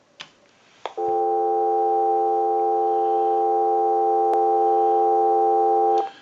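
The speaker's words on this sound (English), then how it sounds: "Now what we want to do is go ahead and give you some dial tone." A steady electronic dial tone on a converted AT&T WE 337 candlestick rotary telephone drones continuously for about five seconds after a couple of clicks, then cuts off with another click.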